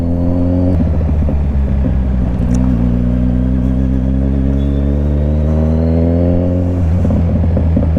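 Heavy road traffic in BGC, a loud steady engine rumble from a scooter or nearby vehicles idling and creeping forward, with a low drone and faint whirring that swells and settles throughout.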